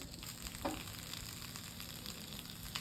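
Banana-leaf-wrapped fish frying in a pan over a gas flame, giving a steady close sizzle with a few brief clinks and stirring touches.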